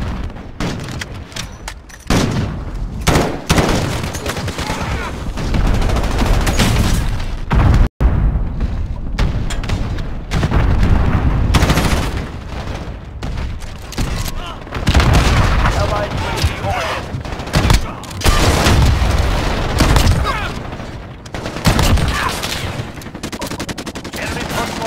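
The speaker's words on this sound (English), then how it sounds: "Allied cruise missile launched" Cruise missile strike in the Modern Warfare beta, heard as a loud, dense barrage of gunfire, booms and explosions that runs continuously, with voices mixed in.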